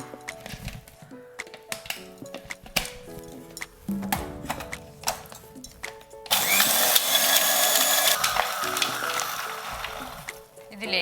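A kitchen mixer blends lemon with cardamom for lime juice, with rattling bursts and clicks that give way to a loud steady whirring grind in the second half.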